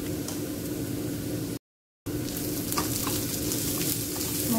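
Spices, including coriander powder, garam masala and Kashmiri red chilli powder, frying in hot oil for dal makhani, giving a steady loud sizzle with a brief silent break midway and faint stirring scrapes.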